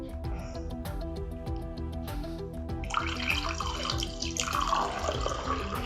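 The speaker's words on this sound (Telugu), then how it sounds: "వాటర్ అందులో వేసేసేయండి" Water is poured into a mixture for a drink, a splashing trickle that starts partway through. Tonal music plays faintly beneath it.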